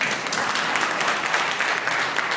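An audience at a live Intelligence Squared US debate claps steadily, a dense, even wash of applause from the hall with no talking over it.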